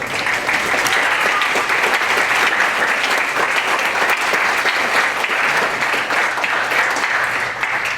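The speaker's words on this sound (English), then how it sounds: "I think we should give you a round of applause" Audience at a college graduation and awards night applauds participating students, a steady, dense wash of clapping that holds loud and even for the whole stretch, with no talk over it.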